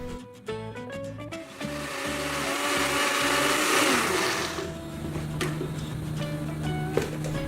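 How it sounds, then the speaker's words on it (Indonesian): An electric blender grinding shallots and garlic with oil, a loud, steady whirring that builds then eases as the paste smooths out, with clinks near the start. "kita lembutkan atau kita blender dengan menggunakan minyak secukupnya aja"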